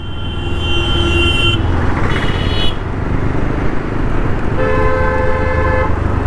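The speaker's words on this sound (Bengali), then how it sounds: "এত বড় গাড়ি যাচ্ছে, সাইড নেওয়াটা খুবই মুশকিল।" Loud road traffic as a large vehicle roars past close by a motorbike, with car horns tooting twice over the steady engine rumble.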